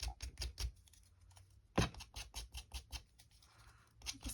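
Scissors cut paper up close while paper bags are being altered for a craft project, a run of quiet crisp snips and rustles with a brief louder crinkle partway through.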